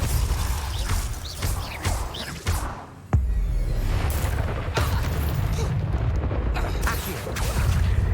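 A Depulso spell in Hogwarts Legacy bursts out with a sharp whooshing blast, set among other loud spell impacts, thumps and clattering combat noise in a busy game fight.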